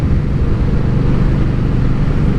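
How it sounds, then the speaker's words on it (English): An Indian Scout motorcycle being ridden through southern New Jersey, a loud, continuous low engine drone with road rumble, steady and close throughout, no talking. "we are riding an Indian Scout through southern part of New Jersey"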